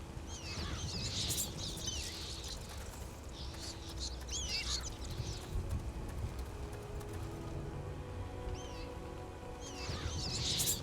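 Birds calling in the video game Castlevania: Lords of Shadow, repeated squawking, honking cries in short clusters over a continuous low rumbling ambience, moderately loud throughout.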